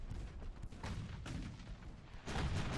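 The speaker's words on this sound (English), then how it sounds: "I'm gonna go ahead and get some of these ships to start firing on him just to finish him off" Naval ship guns boom repeatedly in a 1942 Battle of Savo Island scenario in Ultimate Admiral: Dreadnoughts, a string of heavy rumbling shots with one louder blast near the end.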